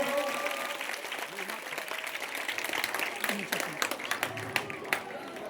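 An audience at a Kargil Vijay Diwas ceremony in Buxar applauds the winners of a general knowledge competition. Scattered claps build into sharper, louder bursts over a murmur of voices and some nearby talk.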